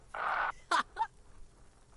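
Harsh seagull-like cries in a quiet outdoor yard: one sustained squawk about a third of a second long, then two short sharp calls, fairly faint and with no speech.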